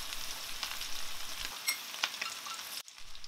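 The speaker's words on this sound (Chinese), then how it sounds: "倒入切好的蒜片和姜片，炒香一下" Sliced garlic and ginger stir-fry in a hot wok with a close, crackling sizzle, broken by soft stirring scrapes before the sound drops off briefly near the end.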